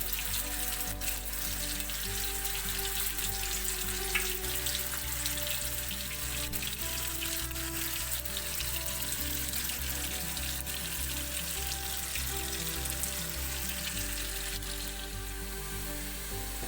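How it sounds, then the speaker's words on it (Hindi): Onions fry toward brown in hot oil for a chicken korma, a faint, even sizzle that runs without a break under a low droning hum, with no speech. "अब ये प्याज हमने ब्राउन करने हैं।"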